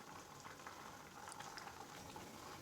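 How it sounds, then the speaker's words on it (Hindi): A pot of kakera and matar curry simmers at a full boil, giving soft, steady bubbling and popping at low volume, close up and without talk. "इसमें उबाल आ गया है।"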